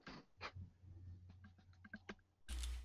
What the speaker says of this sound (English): Because my hand's all over this keyboard.